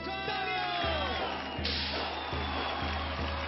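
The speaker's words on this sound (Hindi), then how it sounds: "तालियां।" A television talent show audience at India's Got Talent claps and cheers in a dense, continuous roar, with a steady low hum running beneath the crowd noise.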